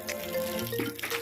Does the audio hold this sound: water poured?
yes